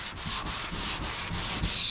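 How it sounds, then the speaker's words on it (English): Steady back-and-forth scraping of a sanding block on a surface during prep for a respray, about seven rhythmic strokes in quick succession, close and fairly loud. "So yeah, we're gonna keep sanding."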